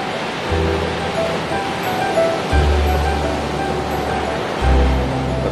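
Ocean waves at Pasetran Gondo Mayit beach near dusk, a constant loud roar of surf with low swells surging at regular intervals.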